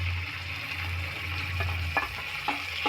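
Tomatoes go into a pan of hot oil with curry leaves, giving a soft, steady sizzle, followed by a few sharp spoon knocks and scrapes as they are stirred in.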